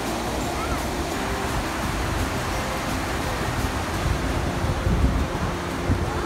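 A river flows in a steady broadband rush close to the microphone, with wind buffeting mixed in and no clear voices.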